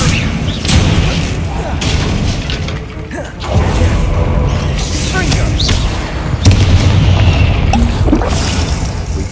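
Spell blasts including Confringo go off in Hogwarts Legacy combat, several heavy booms and bursts spread over a busy, clattering fight soundscape.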